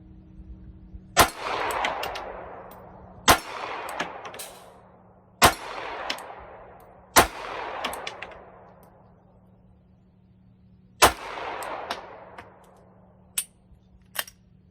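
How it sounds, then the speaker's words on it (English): Pistol shots fired at small targets ring out sharply, five main reports spaced a second or two apart, each trailing a short echo, followed by a couple of fainter clicks or pops near the end over a low background hum. "Let's shoot at some of these little guys."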